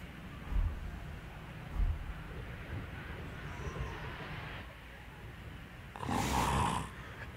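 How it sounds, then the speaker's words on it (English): A sleeping character snores in the video game Dark Souls 3: low, rough breaths rise into a couple of snorts early on against a steady murky game ambience, before a brighter, louder swell near the end. "If you listen to him snore for long enough, you'll get a new pose"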